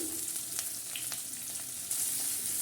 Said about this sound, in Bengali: পেঁয়াজগুলো ভালো করে নাড়াচাড়া করে নিব মোটামুটি বেরেস্তা হওয়ার আগ মুহূর্তে